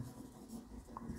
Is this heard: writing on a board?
yes